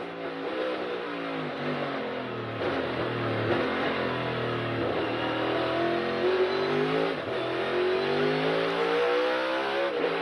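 Toyota NASCAR Cup race car, number 45, on a qualifying lap at the Save Mart 350 road course, its engine roaring loud and continuous as it revs up and shifts through gears for the whole stretch.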